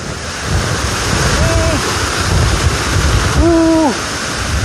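The Kambas Ulak Lebar waterfall roars as a loud, continuous rush of water. Brief gliding tones, probably voices, rise over it a couple of times.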